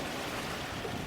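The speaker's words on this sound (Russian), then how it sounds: "Ничего он нам тут волны нагнал." Waves thrown up by a passing motor ship slap against a small fishing boat on a Siberian river in October, a steady broadband wash of water and wind with no speech.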